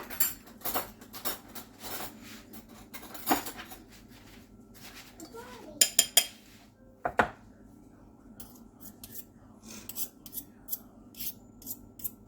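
A spoon being fetched from among dishes and cutlery in a home kitchen while making salmon patties and biscuits, with repeated metallic clinks and scrapes, a few sharp clatters, and loud rattling in the middle.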